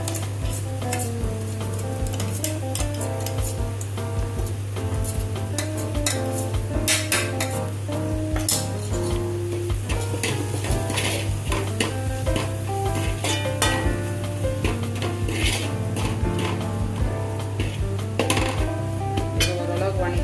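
Ground masala and ginger garlic paste are stirred in a pan for spicy chicken chukka, giving a steady, fairly loud sizzle with scraping and light utensil clinks throughout, over faint steady tonal background sound.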